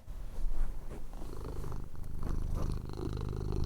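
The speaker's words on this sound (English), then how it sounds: "Can we hear Kitty purr?" A pet cat purrs up close, a continuous rumbling drone with steady rhythmic pulsing that fills the whole stretch at a fairly strong level, with no talking over it.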